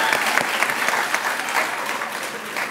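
Audience applause rings out at a Harlem Village Academies 8th grade commitment ceremony, a dense, steady wash of many hands clapping together, fairly close and loud throughout.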